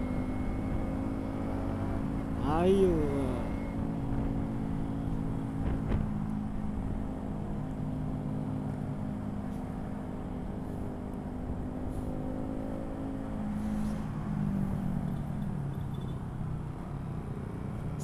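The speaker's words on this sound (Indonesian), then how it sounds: "Seneng banget ya sih knalpot racing, knalpot yang standar kok lah." A motorcycle with a loud racing exhaust rumbles steadily, revving briefly near the start, with a short spoken word early on.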